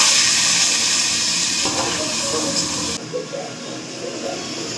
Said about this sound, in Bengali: এই যে এখানে হচ্ছে ভাজা।